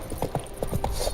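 Horse hooves clip-clop in a quick, steady rhythm in The Witcher 3: Wild Hunt, close and fairly loud over a faint game background.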